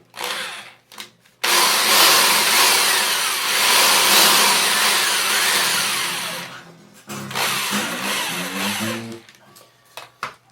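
A Black & Decker power drill winding acoustic guitar strings whirs loudly and continuously for several seconds, its pitch wavering slightly, then stops and briefly starts again with a shorter burst.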